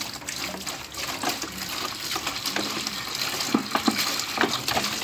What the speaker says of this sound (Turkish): Bir kovaya biraz su döküyoruz.